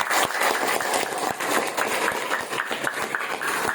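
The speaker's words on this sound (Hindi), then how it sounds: "इतनी जोरदार ताली बजाइए" A crowd at a spiritual discourse clapping hard, a dense sustained wash of applause filling the space with no pauses.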